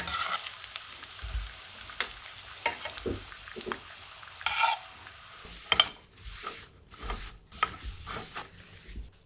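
Sliced ham pan-frying for kimbap: a soft sizzle under intermittent scraping and tapping of a utensil in the pan, close by, with quieter gaps between bursts and no speech.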